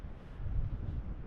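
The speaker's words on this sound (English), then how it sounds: "But man, it is just so windy." Gusty wind outdoors during a turkey hunt buffets the microphone as a low, steady rumble that swells and eases, faint and alone with no voices.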